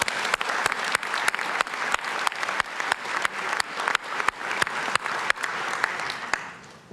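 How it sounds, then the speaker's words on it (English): Steady applause from a conference audience, a room full of people, dense clapping with a few sharp louder claps, fading out at the end. "I would love for you all to give him an applause"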